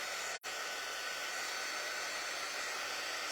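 A hair dryer blows a steady, even whoosh at close range while it dries a lifted corner of a patch. The airflow cuts out very briefly near the start and then continues, with nobody talking.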